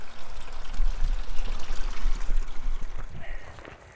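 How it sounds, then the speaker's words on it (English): Water pours and gurgles into 5-gallon jugs being filled for a camper, a close, steady rushing stream with bubbling that eases off toward the end. "after I fill up these 4 5-gallon jugs for the camper, I'm gonna fill up our drinking water"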